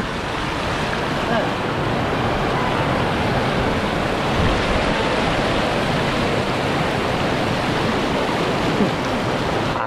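River water flows steadily and loudly through the whole stretch, a dense continuous rush close by with no break, while people float along in the current.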